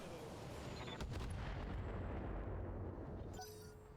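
Weapons fire in the BattleTech video game, with long-range missiles among them: several booming, rumbling shots and a low rolling roar that sustains loudly throughout, with sharper bursts near the start.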